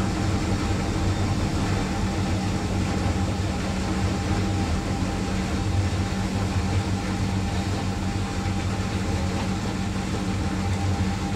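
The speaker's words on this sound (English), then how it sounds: "If somebody put that motor on an electric train, it wouldn't actually sound out of place, would it?" Girbau HS6008 washing machine motor running on a 60ºC medium soil colours programme, a steady loud droning whir with a low electric hum, much like an electric train, continuous throughout without talk.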